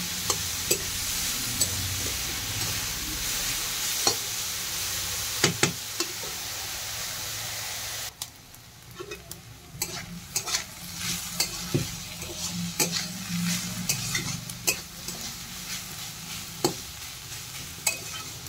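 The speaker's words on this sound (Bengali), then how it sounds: "ভালোভাবে নেড়ে চেড়ে দেব।" Greens and potatoes with green chili sizzle and fry in a pan, a spatula stirring and knocking against the metal in irregular scrapes over a steady hiss.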